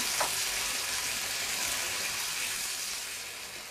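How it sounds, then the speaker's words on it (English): Chopped tomatoes and peas being stirred into a frying pork curry with coconut, giving a continuous close sizzle with soft scraping that gradually eases, no voices. "half a tin or 400 gram tin of chopped tomatoes. And the peas. Again, stir them all in."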